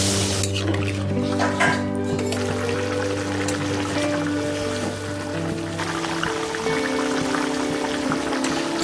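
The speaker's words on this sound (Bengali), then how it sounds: "তারপরে জল অ্যাড করছে।" Water poured into a pan of pointed gourd and potato curry, a brief splashing pour near the start giving way to a steady bubbling wash under a low background drone.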